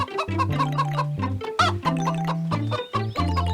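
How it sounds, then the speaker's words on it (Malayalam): A cartoon hen clucks in quick repeated bursts over a bright, steady musical backing. "എന്തിനാ ഇങ്ങനെ വിളിച്ചു കൂവുന്നത്?"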